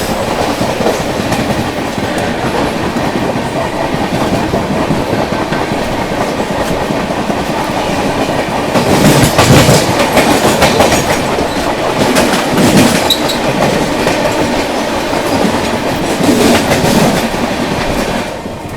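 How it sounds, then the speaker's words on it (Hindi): The Ganga Sutlej Express, running from Dhanbad to Ferozepur Cantt, thunders past at close range, a loud steady roar of rolling coaches with rhythmic clickety-clack of wheels over rail joints and bursts of louder rattle throughout. "सामने से आ रही है आप लोगों की धनबाद से चलकर फिरोजपुर कैंट की ओर जाने वाली गंगा सतलुज एक्सप्रेस"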